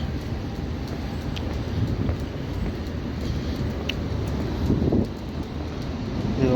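Cold wind blows outdoors in a steady, loud, low rumble buffeting the microphone, with no gaps and a brief surge near the end.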